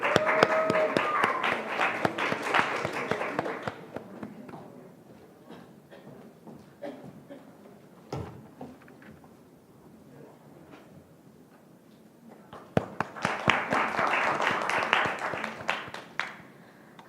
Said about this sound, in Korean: 김소연 학생의 연설을 박수로 맞아주십시오.